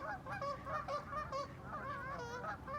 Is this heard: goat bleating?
no